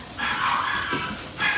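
A dog named Patrick indoors gives a continuous shrill, rising whine that runs into harsher bark-like bursts, near and loud with no talking over it.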